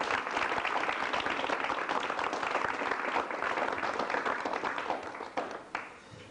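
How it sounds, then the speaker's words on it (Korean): A studio audience at a Korean broadcast applauds to welcome two guests, steady close clapping throughout that thins out and fades near the end. "여러분 우선 두 분을 박수로 환영해 주시기 바랍니다."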